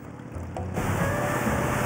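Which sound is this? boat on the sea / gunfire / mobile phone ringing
boat on the sea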